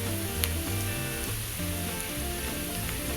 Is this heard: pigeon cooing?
no